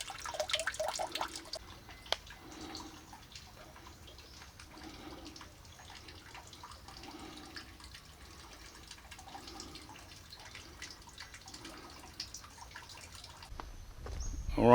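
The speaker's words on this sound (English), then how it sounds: "I guess this water just comes out from under this large sandstone rock here." Spring water trickles out from under a large sandstone rock at an ancient Khmer temple site, a soft steady flow with light dripping and outdoor ambience.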